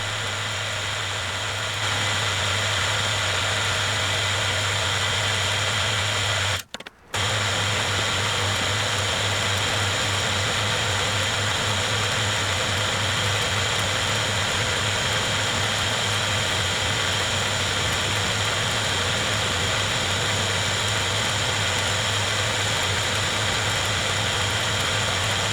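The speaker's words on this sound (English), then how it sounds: "I touch off the slot drill at the side opposite my marks and then machine the two edges parallel and perpendicular to the apex of the angle" A Hafco HM45 bench mill runs a slot drill along the edges of a steel bench grinder platform, giving a loud, continuous machine drone that holds steady for the whole stretch, broken only by one brief dropout.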